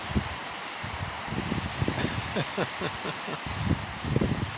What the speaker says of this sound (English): Even up here it's sort of windy.